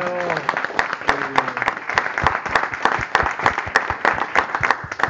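Steady, dense applause from a crowd at a political event in Nanterre, sustained throughout with sharp individual claps standing out, plus a brief voice at the start.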